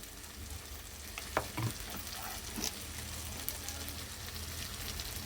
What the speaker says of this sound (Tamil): தக்காளி வெங்காயம் பார்த்திங்கன்னா நல்லா வந்து வதங்கிடுச்சு